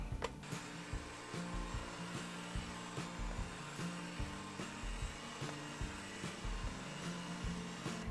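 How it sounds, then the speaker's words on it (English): Electric mixer beating 1½ sticks of butter in a big bowl for frosting, a steady motor whir with repeated knocks of the beaters against the bowl, close and continuous with no talking. "dump in your 1½ sticks of butter, and then mix that until light and fluffy"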